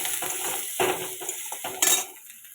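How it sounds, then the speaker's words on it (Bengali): Onions fry in a pan while a spoon clinks and scrapes against the metal in short bursts, over a light background sizzle that falls quiet near the end. "আমি পেঁয়াজটা ভেজে নিচ্ছি।"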